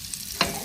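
Butter and cheese with egg in a frying pan give a brief stir and scrape over a soft, steady sizzle, with no talking.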